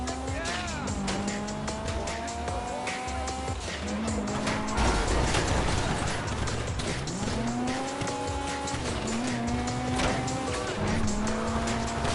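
Car driving hard in the video game GTA Online with repeated tire squeals and a revving engine whose pitch climbs and drops through gear changes, loud and close, with talk over it.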